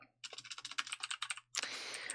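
Rapid clicking of keys on a computer keyboard during a coding session, a quick run of close, crisp keystrokes followed by a louder burst of clatter, with no talking.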